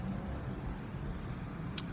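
Cars pass along a road at a distance, a faint, steady low rumble of traffic with no voices over it.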